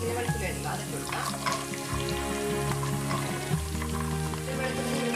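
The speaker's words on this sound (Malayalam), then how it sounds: "വെളുത്തുള്ളി നന്നായിട്ടൊന്ന് വഴറ്റാം." Garlic sautéing in oil for a Kerala-style gooseberry pickle gives a steady, close sizzle throughout, broken by a few stirring scrapes, with a faint tonal hum running underneath.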